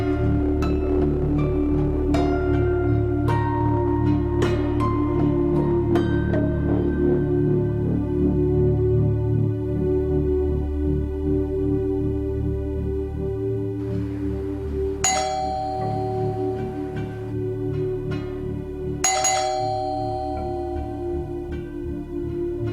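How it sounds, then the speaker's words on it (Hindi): A doorbell chimes repeatedly over a steady hum, ringing several bright dings early on and two more sharp rings later, loud and near, with no talking. "डोरबेल की आवाज नहीं आ रही?"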